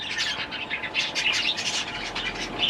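Aviary birds call close by in a busy overlapping chorus of high chirps, tweets and squawks, continuous and fairly loud with no talking.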